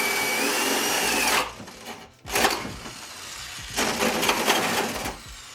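A rusty, dull 1 1/4-inch hole saw boring through layered MDF for a truck bed camping build, loud grinding whir in bursts with a sharp pause between cuts.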